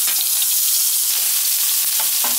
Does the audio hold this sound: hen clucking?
no